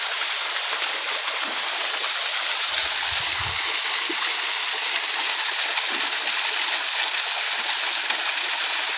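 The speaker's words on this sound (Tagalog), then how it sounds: "Yan po ang kabuuan ng talon mga guys." Stream pouring down a waterfall in Calauag, Quezon, a loud, continuous broadband rush of falling and flowing water that holds steady throughout with no talking.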